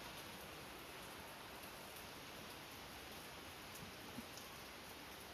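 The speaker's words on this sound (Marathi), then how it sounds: "किती जोरात पाऊस येतोय सकाळी" Heavy morning rain pours steadily, a dense even hiss of falling water that stays constant throughout with no talk over it.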